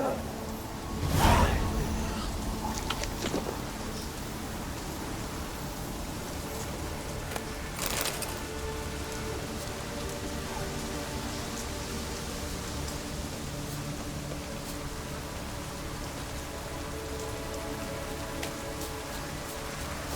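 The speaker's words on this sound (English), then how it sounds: "Looks like rain." Soft, steady rainfall in the video game The Witcher 3 hisses throughout, with a couple of brief whooshing swells and faint background tones.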